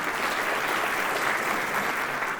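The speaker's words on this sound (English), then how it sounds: "All give him a round of applause." Steady, dense audience applause fills a banquet hall at the Aurora Prize award dinner in Los Angeles, loud and continuous with no break.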